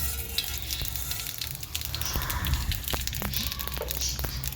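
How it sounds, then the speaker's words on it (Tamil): Mustard seeds pop and splutter in hot oil in a pan while curd rice is being made, giving a continuous close sizzle with scattered sharp crackles and faint voices under it. "கடுகு போட்டதுக்கப்புறம் அது வந்து கொஞ்சம் நல்லா புரிஞ்சிருச்சு பொரிஞ்சதுக்கப்புறமா படப்படன்னு சவுண்டு வருதா"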